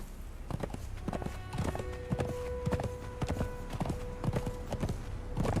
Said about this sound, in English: can the horse jump this?